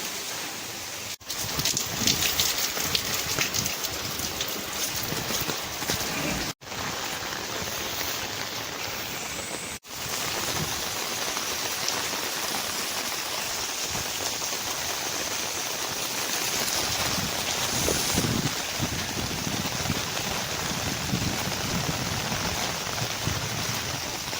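Steady rain falls continuously, a dense hiss of drops on surfaces with a few brief dips, no voices.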